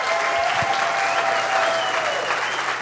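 An audience at an evening event applauds to welcome Frank, a dense and steady wash of clapping that stays loud and close for the whole stretch, with faint voices underneath.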